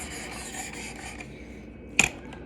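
Spyderco Shaman knife with a chipped edge being worked back and forth on a 600-grit sharpening stone: a steady, soft grinding rasp, close up, with a sharper scrape near the end.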